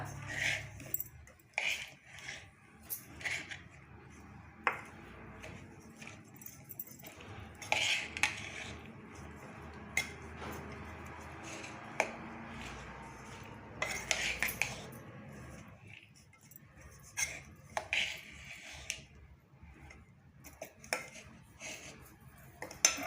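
Dadpe poha being stirred with grated fresh coconut, a utensil scraping and clinking against a metal dish in close, irregular bursts, with some faint kitchen background.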